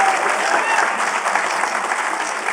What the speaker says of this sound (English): let's give Tina King a round of applause